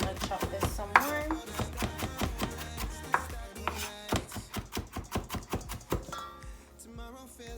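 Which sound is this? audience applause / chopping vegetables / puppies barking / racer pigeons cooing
chopping vegetables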